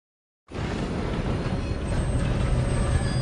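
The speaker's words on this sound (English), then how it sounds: "We have to stop this train." A train runs steadily, its dense, continuous rumble and rattle starting abruptly and holding loud and close throughout, with no voices.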